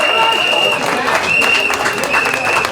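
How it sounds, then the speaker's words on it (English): A speedway crowd at an Isle of Wight versus Belle Vue National League meeting cheers and claps for a rider, a loud, busy mix of clapping and shouts with a thin high whine running through it. "I need to see you cheer, wave your scarves, clap your hands"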